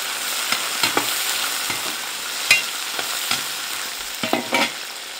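Scallion, ginger, garlic, Sichuan pepper and dried chilies stir-fried in hot oil, a steady bright sizzle with irregular scraping stirs and clacks of the spatula against the wok, close and loud, no talking.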